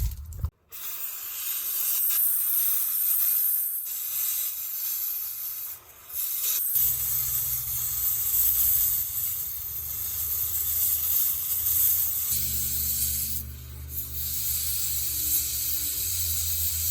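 A torch roars steadily with a broad hiss while heating the ends of a dump truck's hydraulic cylinders, loud and close, with low rumbling shifts in tone partway through and no talk.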